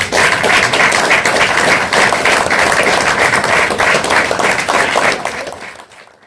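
Audience at a literary prize ceremony applauding a prize winner, loud sustained clapping from a crowd that fades out near the end.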